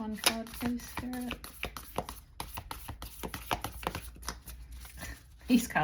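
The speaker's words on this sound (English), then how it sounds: "These cards are so hard to shuffle." Quick, crisp riffling and flicking of playing cards in short bursts, close by, with a voice speaking briefly at the start and end.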